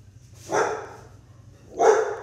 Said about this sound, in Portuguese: meu doguinho aí tá latindo